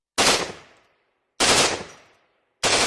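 Heckler & Koch G36 rifle firing three loud single shots at roughly 1.2-second intervals, each a sharp crack with a decaying echo tail, no talk.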